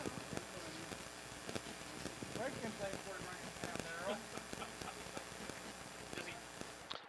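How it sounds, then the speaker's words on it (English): Hooves from a spirited three-year-old harness-racing gelding at a county fair clatter in quick, uneven beats, with voices murmuring in the background throughout. "Spirited horse there that didn't want his picture taken."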